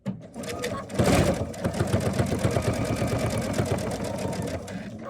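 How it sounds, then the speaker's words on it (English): A sewing machine works through a reverse stitch on towel and fabric, its rapid needle chatter running loud and close after a brief start, with a person talking over it. "Now I want to do a reverse stitch here a little bit"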